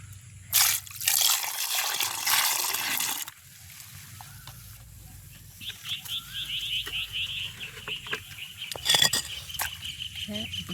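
Squid are washed by hand in water, with a rush of pouring water at first, then splashing, dripping and trickling close by in uneven bursts.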